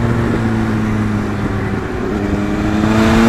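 An old Honda Fireblade superbike engine runs with the throttle opened, a loud steady low drone with rising harmonic tones and wind rush close to the rider.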